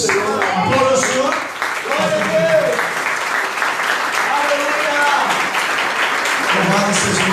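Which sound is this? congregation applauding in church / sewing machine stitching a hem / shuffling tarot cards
congregation applauding in church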